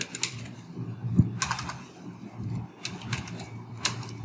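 Close, irregular keystrokes clatter on a computer keyboard as a C printf statement is typed for a GCD and LCM program, coming in short bursts with small pauses between.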